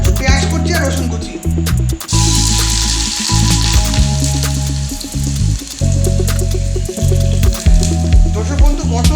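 Chopped onion and garlic hit hot mustard oil in a pan and sizzle steadily, a soft frying hiss running under loud background music and a voice talking.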